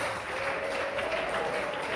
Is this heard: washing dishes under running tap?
no